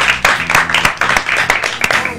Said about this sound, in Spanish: Un aplauso para Carbone.